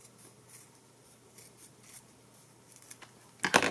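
Scissor blades snip through double-sided foam tape in a few quiet, scattered cuts, followed by a sharper, louder rustle right at the end.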